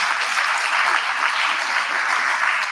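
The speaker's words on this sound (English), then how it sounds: "So let's give Ms. Ngogaitobi a good round of applause." Steady, dense applause from an audience at a national student representative council induction ceremony, continuous and fairly loud throughout with no break.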